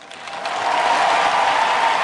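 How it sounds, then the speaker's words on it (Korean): A convention crowd cheers and applauds a speech by Obama, a dense wash of clapping and cheering that builds over the first half-second and then holds steady and loud. "여기서 많은 사람들이 환호하는 이유는 뭐냐면"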